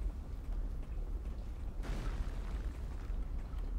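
An enemy shot in the Dark Souls 2 video game lands as a sudden booming burst partway through, rising out of a constant low rumbling game background and fading out slowly.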